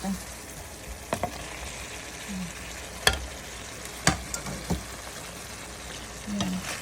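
Eggplant is added to saucy tomatoes in a pan and stirred, giving a steady quiet sizzle broken by scattered clacks of the spoon against the pan.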